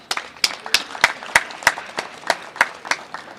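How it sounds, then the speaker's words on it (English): A small audience claps for a school group at a broadcast event near the Oshikango border post, giving sparse, distinct handclaps in a loose rhythm. The claps are moderately close and carry on for a few seconds. "So let's give them another round of applause."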